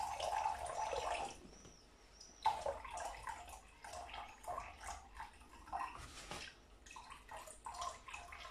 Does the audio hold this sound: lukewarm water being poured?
yes